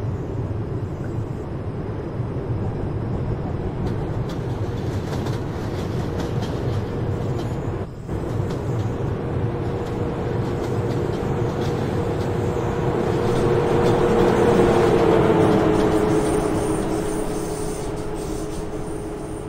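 An ICE high-speed train pulls into a station on the Freiburg to Basel Badischer Bahnhof line, a steady rumble of wheels on rails swelling gradually louder toward the middle and end with faint squealing tones, no talk over it.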